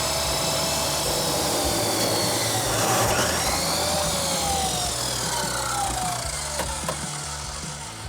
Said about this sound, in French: Tu permets que je coupe mon petit morceau de métal?